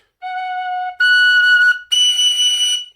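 Tin whistle playing three sustained notes in sequence, a lower tone followed by two higher third-register notes, clear and solo with short gaps between.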